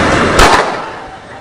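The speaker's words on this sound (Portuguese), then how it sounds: "O policial dispara a arma." A single loud gunshot from a police officer's firearm, a sharp close crack that rings out briefly before fading, heard over a noisy background without speech.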